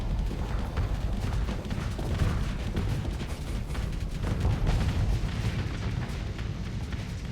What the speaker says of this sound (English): Nice barrage